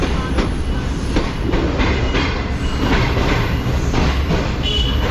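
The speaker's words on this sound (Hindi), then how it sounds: "चलो फाइनली नवाबशाह को ट्रेन ने अलविदा कह दिया है।" The Shalimar Express pulling out of Nawabshah, a loud, continuous rumble of wheels on track with rhythmic clickety-clack beats and faint squeals, heard close from aboard.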